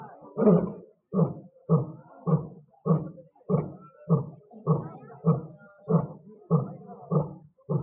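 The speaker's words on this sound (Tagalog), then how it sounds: "Ganyan pala ang huni ng lion." A lion roars in a long rhythmic series of about a dozen deep, loud grunting pulses, evenly spaced and close.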